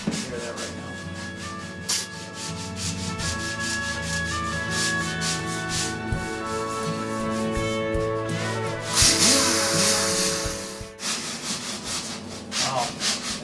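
Hand sanding feathers out a wooden speaker cabinet base plate for a 15-inch speaker, with steady back-and-forth rasping strokes in a close, continuous rhythm that briefly intensifies before pausing.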